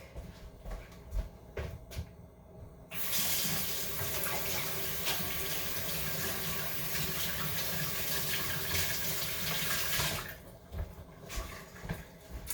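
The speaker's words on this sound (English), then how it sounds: "I'm gonna wash my hands real quick." A kitchen tap runs steadily for several seconds while hands are washed beneath it, a close, broad splashing rush that starts abruptly and cuts off, with faint handling noises before and after.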